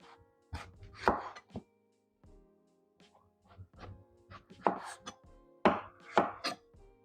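A kitchen knife shaves skin from raw potatoes being prepared for roasting, making close, dry scraping and cutting strokes in irregular bursts with brief pauses, alone without talk.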